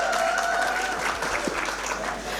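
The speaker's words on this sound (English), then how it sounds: "These are very weak applauses." A small conference audience at a summit panel session claps briefly, a thin scattered round of applause that stays fairly even, with a little voice mixed in.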